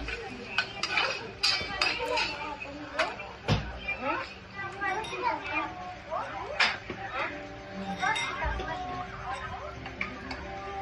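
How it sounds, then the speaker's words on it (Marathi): A spoon stirs sugar into apple and custard apple kheer made with thickening milk, clinking and scraping against the pot in quick irregular taps, with faint voices in the background. "एक चमचा साखर टाकूया आणि छान मिक्स करून घेऊया।"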